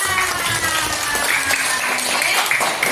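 Schoolchildren in an Indonesian classroom clap their hands together in a brisk, rhythmic burst of repeated claps, close and fairly loud, filling the whole moment without talk.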